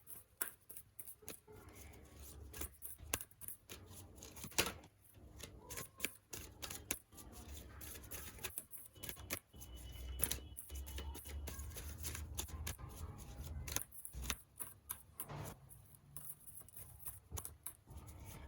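Someone shuffles an oracle card deck at close range in a quiet room. The cards slap and riffle in rapid, irregular bursts for about eighteen seconds, with brief pauses between the runs and no speech.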